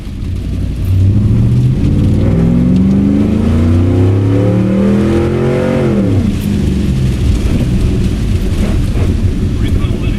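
A Chevrolet Camaro engine revs hard while the car slides on a rain-soaked road, rising then falling in pitch as the tires lose grip, loud and close with rain and road noise underneath, and a voice speaking over it.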